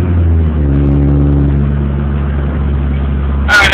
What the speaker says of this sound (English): I hope you guys can hear me over the exhaust